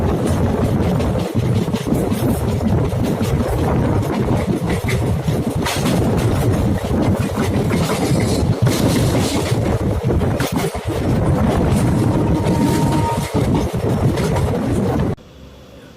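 Hoshiarpur Express 14012 on the Jalandhar City to Delhi run, passing close by with a loud, continuous rumble and rhythmic clatter of wheels over rail joints for about fifteen seconds, then cutting off abruptly.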